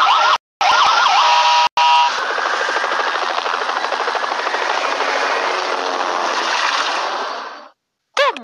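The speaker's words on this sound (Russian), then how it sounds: "Полицейская машина." A police car siren wails steadily at close range, a loud continuous rising-and-falling tone that holds for several seconds before cutting off abruptly, with brief gaps near the start and no talk.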